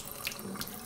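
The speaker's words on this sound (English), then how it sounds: "tap on just a little bit of a dribble, and you want to get the water into the casing" A kitchen tap runs at a thin dribble to flush cool water through a sausage casing, giving a soft, steady, close trickle for about a second.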